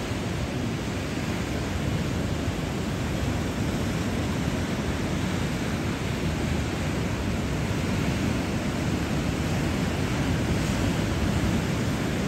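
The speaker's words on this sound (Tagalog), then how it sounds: "Dinadala ng alon yung bangka oh." Steady broadband wash of sea waves and wind around a small boat, continuous and fairly loud with no clear breaks, no talking.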